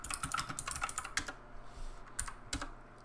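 Typing a command on a computer keyboard while playing a text-based MUD game: a quick, fairly close run of key clicks, then a pause and two final isolated keystrokes, with no voices.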